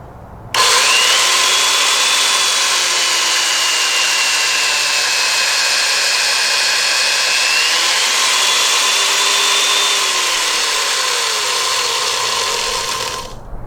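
A Makita 7100B hollow chisel mortiser plunges into wood with a loud, steady motor whine and high grinding that holds for over twelve seconds before winding down, with no voices.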